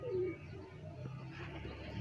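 A blue female pigeon coos softly in a low, murmuring run on a rooftop, with faint background noise throughout.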